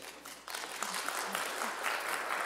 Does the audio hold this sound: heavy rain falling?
no